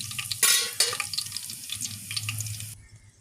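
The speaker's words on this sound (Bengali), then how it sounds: "এর মধ্যে দিয়ে দিয়েছি গোবিন্দভোগ চাল এবারে এটা সুন্দর করে একদম ভেজে নেব" Gobindobhog rice frying in a pan with ghee, a little refined oil and chopped ginger: a bright hiss with scraping stirs near the start, then steady sizzling with light clinks, close and alone.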